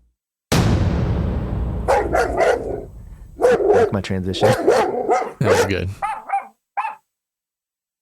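A small dog barks in several sharp bursts after a loud thump. The barks come close and loud, and people talk and laugh among them.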